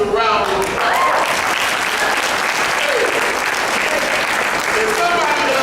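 A graduation ceremony audience gives the students a round of applause, a dense, sustained clapping from a large crowd that stays loud and steady throughout, with a voice faintly audible over it.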